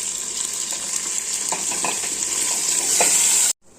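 A soybean and vegetable mixture with onion and ginger-garlic paste sizzles loudly in hot oil in a pan, with a continuous frying hiss and scraping stirring strokes, ending abruptly.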